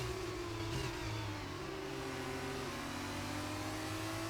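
An F2 race car engine in the F1 22 video game revs steadily and loudly throughout, a continuous high whine with slight pitch shifts, no talk over it.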